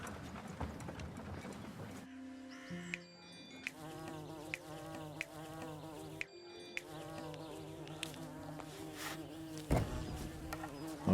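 Bees from the Laysara Summit Kingdom strategy game hum steadily and loudly throughout, layered over game music, with short ticking interface clicks at regular intervals and a brief drop partway through.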